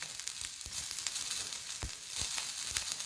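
Cumin seeds sizzle in a pan with golden roasted coconut for beetroot thuvaiyal, a close, dense crackling fry with small pops throughout and no talk.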